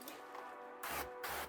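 Two short hissing bursts of fine water mist from a True Spray pressurized sprayer at 90 PSI onto flat window glass during tinting, each lasting about a quarter second, close and fairly loud against a quiet room.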